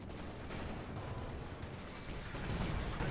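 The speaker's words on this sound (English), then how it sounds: "Fragmentation bombing run called in, landing right behind" Fragmentation bombing run in Company of Heroes 2, a dense continuous rumble of explosions and battlefield gunfire that swells slightly toward the end, no voices.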